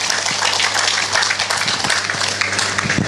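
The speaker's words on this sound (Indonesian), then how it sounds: "Tepuk tangan untuk Bandungan." Crowd applause at a Muhammadiyah religious gathering in Central Java, a continuous dense clatter of many hands clapping at steady volume.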